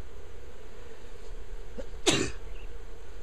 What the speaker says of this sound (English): do not sneeze on your bees